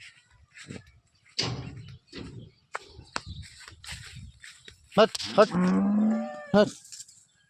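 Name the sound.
cattle mooing at a livestock market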